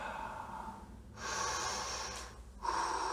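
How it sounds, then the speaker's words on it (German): Slow, deep breaths in and out during a relaxing kids' sports and relaxation session, close and soft, with a long exhale followed by a pause and another breath, no talking. "Noch ein paar Mal tief ein- und ausatmen."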